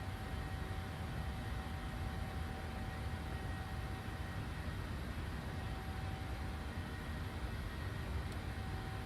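Steady broadband cabin drone of a PMDG Boeing 737-800 in cruise flight in Microsoft Flight Simulator, a constant low rumble with a faint thin tone running through, no voices.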